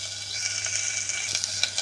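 Finely chopped onion sautéing in a pan for matar rice, a steady soft sizzle and crackle heard alone with a low background hum throughout.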